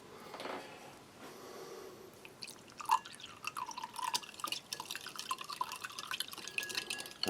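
Water poured from a pouch into granular Spanish army combat ration powder, giving close, irregular drips and splashes that grow busier and denser toward the end, with no talking.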